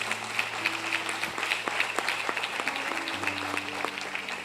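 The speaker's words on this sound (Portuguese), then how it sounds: "Aplaude a Deus por isso, igreja." A church congregation applauds during a worship service, steady crowd clapping with a faint sustained musical tone underneath and a few sharper individual claps standing out.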